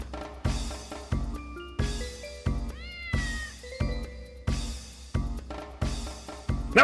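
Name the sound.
cat meowing in the video game Dark Cloud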